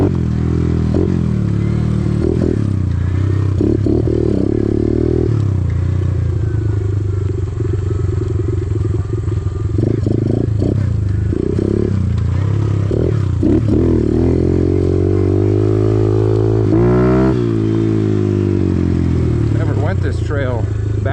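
A Kawasaki KLX110 pit bike engine runs steadily after a kickstart, its loud, continuous putter rising and falling with revs while a person talks over it.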